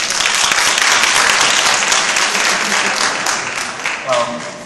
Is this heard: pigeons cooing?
no